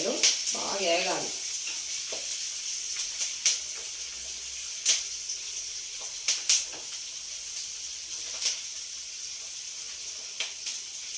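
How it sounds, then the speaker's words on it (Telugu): Onions fry in a pan for a potato and egg curry, a steady broad sizzle running throughout with occasional sharper crackles and spatters; a brief voice is heard near the start. "ఉల్లిపాయలు బాగా ఏగాలి."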